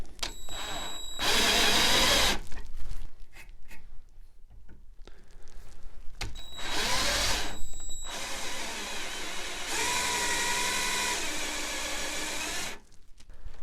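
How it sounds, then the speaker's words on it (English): A power drill with a brad point bit whirs in two separate bursts through wood for a chair stretcher, with quiet pauses between, the second run longer as the bit grinds steadily through. "As I drill this hole, I need to make sure that my drill bit is lined up straight"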